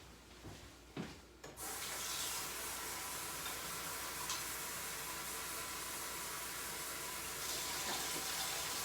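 Tap water runs in a steady, even rush for several seconds, measuring two cups of water for homemade pretzel dough in a home kitchen, after a few faint handling bumps at the start.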